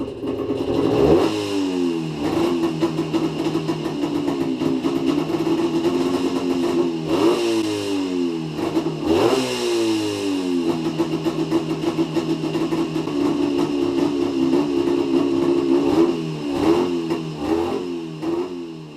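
Panther Villiers 250 twin two-stroke motorcycle ridden on the road, its engine revving up and down through repeated gear changes, loud and close throughout with a steady buzzing drone between rises.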